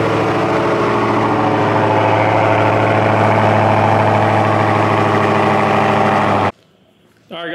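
Engine of a 2021 Ram TRX truck running at a steady, close idle for several seconds before cutting off abruptly into near silence.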